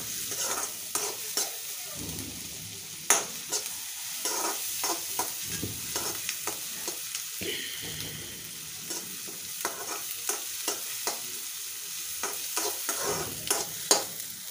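Chopped onions sautéing on a tawa for pulao, sizzling steadily in oil while a spatula stirs and scrapes the pan in repeated sharp clacks, close and moderately loud with no talk.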